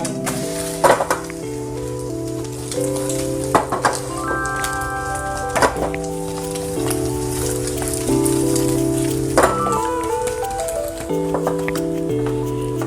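A crab omelette frying in a pan spits and sizzles steadily while a spatula presses it down and flips it, with a few sharp clinks of metal on the pan. Tonal background music plays throughout.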